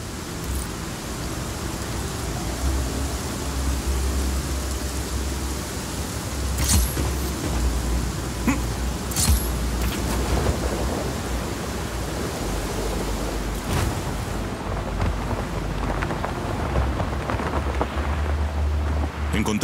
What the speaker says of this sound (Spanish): Se acerca la tormenta.